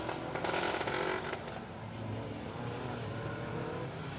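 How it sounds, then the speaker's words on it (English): A 2-litre Ford Escort rally car on a stage of the Dukeries Rally creeps toward the stop line, its engine running rough and loud with a steady broadband rumble and a brief louder burst early on, no talk. "There's a lot of noise coming from a car that is coming towards the stop line now."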